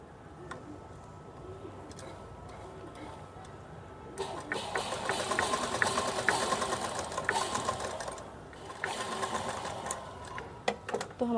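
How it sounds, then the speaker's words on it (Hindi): A sewing machine stitches the shoulder seam of a girl's top made from leftover fabric, a steady mechanical whirr that starts after a few quiet seconds, runs for several seconds and ends in a few short bursts. "सेम ऐसे ही हम अपने दूसरे शोल्डर पर भी सिलाई कर लेंगे।"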